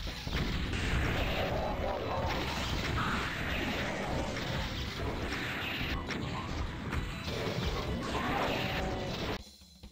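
Rocket launcher fire and explosions in the video game Doom, with a steady chaotic wash of blasts, crashes and impacts running continuously at moderate level before cutting off near the end.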